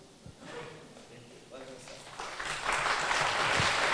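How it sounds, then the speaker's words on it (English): Applause swells at a public university lecture at UGM in Yogyakarta. It starts under a speaking voice and builds to dense, loud clapping that fills the final second and a half. "a round of applause to Imam Asafa"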